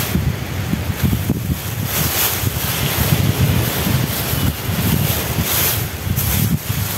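Strong wind at a beach roars and buffets the microphone continuously, a loud, rumbling gusty rush with no voices.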